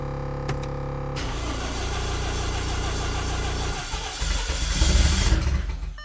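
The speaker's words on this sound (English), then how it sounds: "Air compressor." An air compressor kicks on after a brief tone, its motor settling into a loud, steady chugging drone that swells louder toward the end, with no voices.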